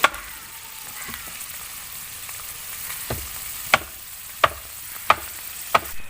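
Paneer cubes fry unsalted in a pan with a constant close sizzle, and sharp clicks of a spatula against the pan repeat every half-second or so toward the end.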